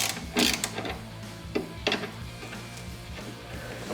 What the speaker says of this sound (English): There's a little more room to swing your ratchet.